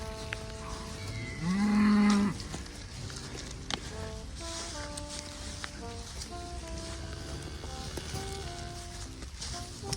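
Dairy cows lowing at milking time in a farmyard under a cloudy sky, one loud close moo standing out early, with fainter calls and a steady outdoor background.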